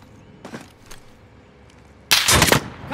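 Burst of automatic gunfire in a Call of Duty Warzone match, loud and close, erupting after a couple of faint earlier taps and rattling continuously for about a second.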